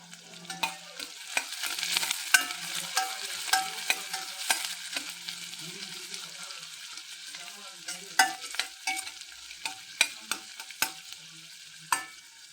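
Chopped onions being fried until reddish brown in a pan, with a soft sizzle underneath and repeated scraping, clicking stirs from a spoon at an uneven rhythm, close up and with no talking.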